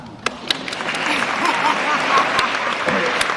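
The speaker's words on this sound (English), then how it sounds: "Now you clap." A volunteer appreciation luncheon audience in Olympia claps together in sustained, dense applause that swells slightly and holds steady, with a faint hint of voices underneath.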